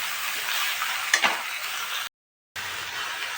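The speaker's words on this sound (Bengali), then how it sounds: "এবার সয়াবিনগুলো আমি দিয়ে দিলাম। সয়াবিনগুলো দিয়ে আবার ভালো করে ভেজে নিতে হবে।" Soybean chunks frying with onion and potato in a pan, a continuous close sizzle with a brief stirring scrape, cut by a short silent gap before the sizzle resumes; no one speaks.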